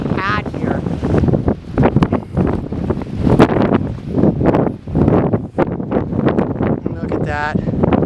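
Strong wind gusts buffet an open outdoor spot in Rainbow Basin, roaring steadily into the microphone and swelling in surges, with a person talking loudly over the rumble throughout.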